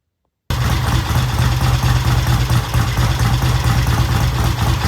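A 1968 Triumph T100 motorcycle idling with no throttle, a steady close engine note with an even low pulse, no voices.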